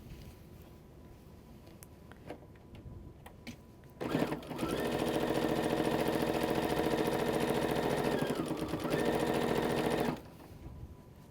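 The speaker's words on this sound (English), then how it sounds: "Now we can just stitch down the rest of this binding." A domestic sewing machine stitches quilt binding down onto the front of a quilt, running as a steady close whirring burst for about six seconds between quieter pauses.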